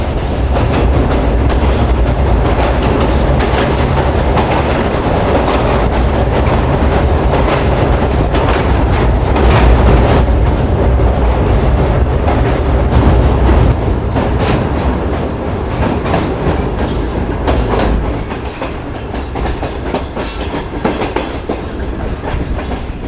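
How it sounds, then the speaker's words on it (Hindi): Shalimar Express train nearing Kotli Junction station on a curve after crossing a river bridge, loud sustained rumble and rhythmic wheel clatter over the rails, easing slightly in the last few seconds, with no talking. "हमारी ट्रेन बहुत ज़बरदस्त और अप्रोच बना रही है कोटली जंक्शन रेलवे स्टेशन पर"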